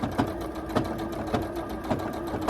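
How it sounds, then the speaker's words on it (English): A sewing machine stitches around an appliqué on a shirt, a close, steady mechanical whir with a rapid regular clatter of the needle, running continuously without talk. "We're gonna take it to the sewing machine and just stitch around it"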